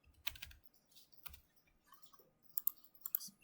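Quiet keystrokes on a computer keyboard while entering component values in circuit design software, sparse clusters of light clicks with pauses between, close and soft in a still room.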